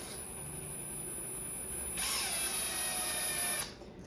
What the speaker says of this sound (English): let's head over to the vise and twist up some of these screw eyes